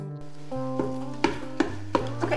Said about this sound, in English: Okay, so we're chopping up our breakfast sausage here.